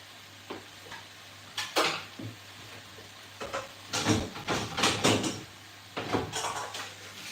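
Vegetables dropped into a hot stir fry pan, sizzling in several bursts with scraping and clatter of stirring between them, close by; a brief hiss grows louder toward the end.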